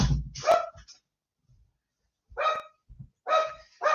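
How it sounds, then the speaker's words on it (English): Several dogs barking in short, loud bursts indoors, a few volleys separated by brief pauses, with no talking over them. "The dogs bark. Louis sits down. The dogs bark."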